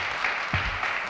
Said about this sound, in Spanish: ahora el aplauso es para el segundo participante, Fernando Funes.